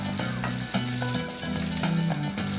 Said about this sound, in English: Once everything starts frying up, add in some plum tomatoes.